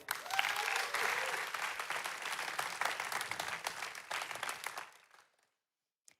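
Church audience applauding in a hall, a dense steady wash of many hands lasting about five seconds before cutting off into silence.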